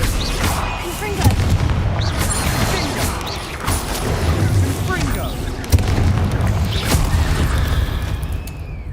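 In Hogwarts Legacy, Confringo fire spells go off in combat against spiders, with repeated booming blasts and crackling impacts over a busy, rumbling battle din.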